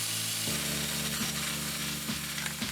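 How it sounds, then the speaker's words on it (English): Belt grinder working a 4140 tool steel blade profile, giving a steady abrasive hiss over a constant motor hum, with brief pitch dips each time the steel is pressed against the belt. "I'll finish grinding the profile with the belt grinder."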